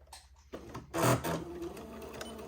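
A sewing machine straight-stitching the entredeux seam of a Christmas dress starts with a loud whirring burst, then settles into steadier, quieter running, heard up close.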